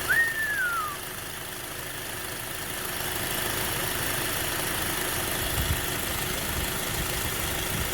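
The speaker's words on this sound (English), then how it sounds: "Now the clutch compressor is cycling now. So is the fan." A 2010 Acura TSX engine idles with its AC compressor clutch cycling and cooling fan running, a steady low hum and whirr throughout, with a brief high squeal at the start.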